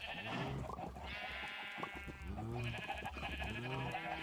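Sheep bleating in the video game Minecraft, several wavering bleats in a row at moderate level, close and alone without talk.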